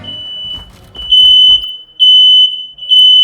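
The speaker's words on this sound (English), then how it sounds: "there's a fire alarm in my building" Building fire alarm sounding loud and close as a steady high-pitched tone in repeated pulses, after a brief stretch of background noise and shuffling.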